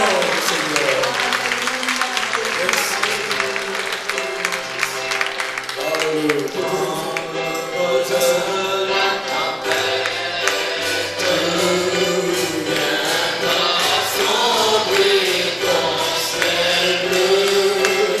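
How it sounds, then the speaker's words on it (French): Congregation at a church service in Chambéry applauding and acclaiming during worship, a loud continuous wash of clapping and voices blended with music for the whole stretch. "Allez, on acclame."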